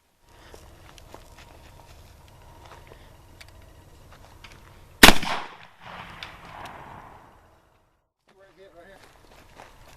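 A single sharp, loud shotgun blast fired at a flashlight target outdoors, a sudden crack followed by a brief rumbling decay, preceded by light shuffling and faint background sounds.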